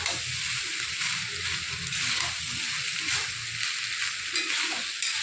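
Leftover rice stirred and fried in a pan over a gas flame, giving a continuous bright sizzle with soft rhythmic scraping and shuffling of the grains, close and steady.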